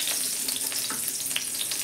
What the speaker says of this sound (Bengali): কাঁচা লঙ্কাগুলো হালকা একটু ভেজে নেব